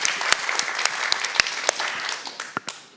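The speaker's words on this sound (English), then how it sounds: "give her a round of applause for that" Studio audience at a TV show taping gives a round of applause, fairly soft and scattered, with distinct individual claps standing out over a light wash.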